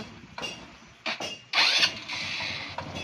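A Motorstar motorcycle engine, recently troubled by water in its fuel tank, cranks in short bursts and then catches, settling into a steady mid-pitched idle close by.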